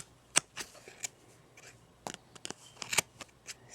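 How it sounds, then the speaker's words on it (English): Scissors snip through crochet yarn edges on a jester beanie in a series of sharp, close, irregular cuts with quiet rustling between them, no talking. "So just go ahead and cut away."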